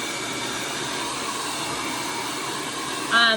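Hair dryer blowing hair dry, a steady broadband airy whoosh with a constant low motor hum running throughout, close and even, ending in a brief louder burst.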